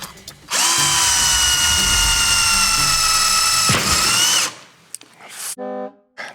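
A cheap $27 cordless drill whines at high speed for several seconds, its pitch shifting briefly before it stops, followed by short clicks and bursts.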